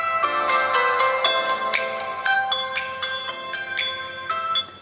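A bright chiming melody plays through the mono speaker of an Infinix Hot 12 Pro smartphone, thin and tinny, with clear bell-like notes in a steady rhythm.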